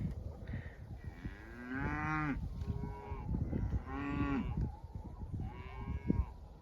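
Several long, drawn-out moos from cattle, some overlapping, over a quiet outdoor background with no talking.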